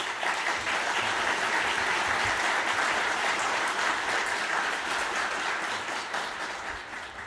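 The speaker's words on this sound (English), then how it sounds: "I would like to ask you for a big round of applause." Sustained audience applause at the 2025 IJSO international science olympiad opening ceremony, a dense steady wash of clapping from a large crowd that eases slightly at the end.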